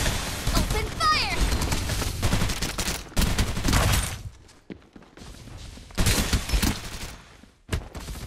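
Gunfire in the battle-royale shooter Farlight 84, with dense bursts of rapid automatic shots and booms that come and go in loud clusters with brief gaps, mixed with a player talking throughout.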